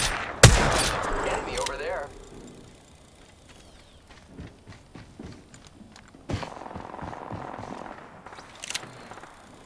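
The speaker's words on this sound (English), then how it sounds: "I am taking fire" Gunfire in the video game Apex Legends, a sharp loud shot opening the passage, then scattered faint pops and bursts mixed with shuffling game noises and a later cluster of shots.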